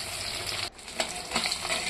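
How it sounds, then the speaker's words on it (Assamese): Bhakua fish pieces fry in hot oil with a continuous close crackle and sizzle. A short dip in the middle might be the fish being turned or stirred before the frying noise swells again. "মাছখিনি মছমছাকে ভাজি ললো"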